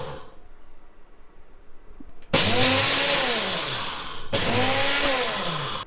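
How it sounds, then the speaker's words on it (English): A NutriBullet blender grinding oats kicks in suddenly with a loud, high motor whir, pulsing in two long bursts with a brief dip between, close and dominating. "I like to grind these, so I'm going to just quickly do that in a NutriBullet"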